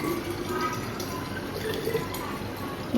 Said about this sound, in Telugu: మమ్మీ వచ్చి వాటర్ బాటిల్ నింపుతుంది